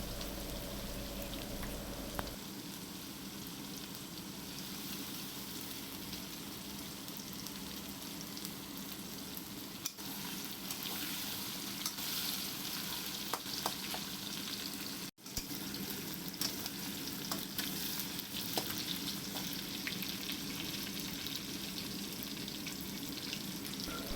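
Chicken mince frying with cabbage, green chilli and garlic while being stirred in the pan: a steady, moderate sizzle runs throughout, with small pops and occasional clicks and no talk.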